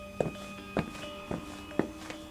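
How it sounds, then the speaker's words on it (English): Footsteps as a sound effect in a creepy home alone story, four or five evenly spaced heavy thuds on a floor, close and distinct over a low steady background hum. "Footsteps. They were still there, right on the other side of the door."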